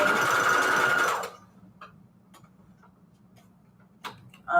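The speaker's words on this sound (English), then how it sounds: "Okay, so let's sew this on here." A sewing machine stitches a paper label onto a junk journal in one loud, steady run lasting a little over a second, then goes quiet apart from faint clicks and a brief mechanical rattle near the end.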